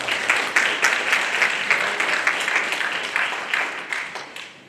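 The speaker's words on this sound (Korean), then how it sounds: "큰 박수로 맞아주시기 바랍니다" Steady audience applause welcomes a school principal to the podium at a practical dance admissions information session, a moderately distant wash of many hands clapping that gradually thins toward the end.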